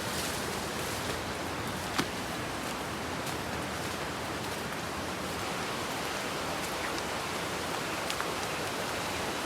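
Steady, dense rushing water fills the whole stretch, a constant broadband roar of the Grenjengan waterfall in Pacet, Mojokerto, heard from nearby, with no voices.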